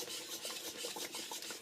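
A whisk scrapes and stirs melted chocolate into hot pound cake batter ingredients in a bowl, a steady close rasping swirl with a soft sizzle underneath, continuous with no talking.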